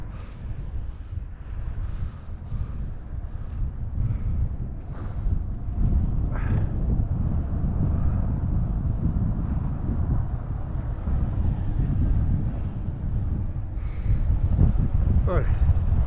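Steady, heavy wind buffeting a microphone while cycling against a headwind through Forest Park in St. Louis, a continuous low rumble that grows stronger near the end, with faint voices here and there.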